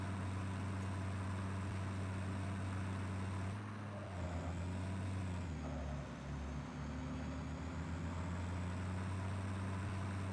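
Trucks driving in the video game Satisfactory: a steady, loud low engine drone runs throughout, dipping and shifting in pitch around the middle as the vehicle changes speed, with no talk over it.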